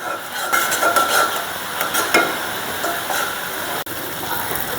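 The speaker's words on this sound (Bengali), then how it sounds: "মশলা কষানো হয়ে গেছে, তেল ছাড়িয়ে দিচ্ছে" Masala spices sizzle in hot oil while being stirred, giving a steady, close hiss broken by scraping and clinking strokes of a spoon against the pan, with no talking.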